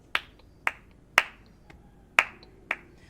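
Six bright, sharp high-pitched flamenco hand claps, struck crisply with fingers against the palm, coming close and clear in an uneven rhythm with nothing else sounding.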